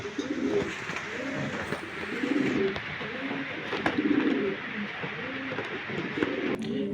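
Pigeons coo in a repeated, rolling rhythm close by, one of a batch of about forty birds being delivered in Bangladesh, with steady background noise underneath.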